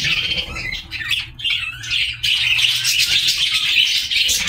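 Young birds squawk loudly and continuously, a dense chorus of harsh, high calls close by, with no talking.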